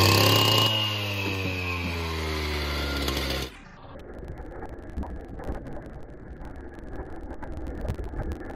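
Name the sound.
steel cutter saw cutting paver bricks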